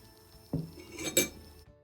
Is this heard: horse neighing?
no